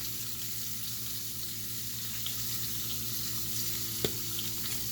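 Grits in a pot, seasoned with Cajun seasoning and Old Bay, give off a steady, even hiss of cooking as they are stirred, with one faint knock near the end and no voices.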